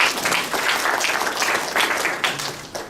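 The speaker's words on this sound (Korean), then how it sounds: "박수 한번 주세요." A group at a driver safety training session gives a short burst of brisk applause, dense and fairly close, lasting a few seconds.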